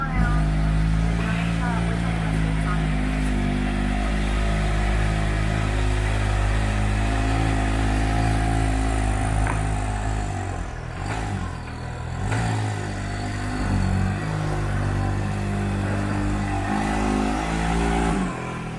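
A 2017 Can-Am X3 side-by-side engine running close and loud with several revs and throttle blips as it pulls onto a dyno, with people talking over it.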